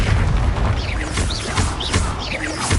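A Confringo explosion spell cast in a Harry Potter video game, a loud, close, sustained booming blast with crackling, whooshing bursts layered over it.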